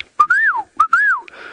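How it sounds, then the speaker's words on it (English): A person whistles on a safari drive in two clear, loud, sliding calls, each rising and then falling, with a short pause between them and faint outdoor background afterward. "I'm just whistling to Herbie to let him know where we are"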